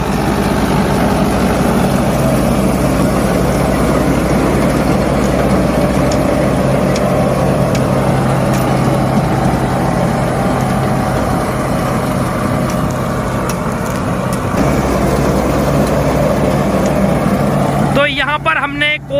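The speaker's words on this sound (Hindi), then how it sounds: "महिंद्रा अर्जुन नोवा ट्रैक्टर के द्वारा यहाँ पर चलाया जा रहा है भूसा की मशीन है" A Mahindra Arjun Novo tractor drives a chaff cutting machine for wheat straw, producing a loud, continuous low engine drone with mechanical whirring and rattling that holds steady throughout, with people talking over it.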